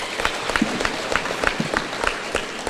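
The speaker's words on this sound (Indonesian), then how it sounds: "Boleh tepuk tangan sekali lagi?" An audience applauds at a provincial quiz competition final in Indonesia, producing a steady, fairly loud burst of many hands clapping with a few sharper nearby claps standing out.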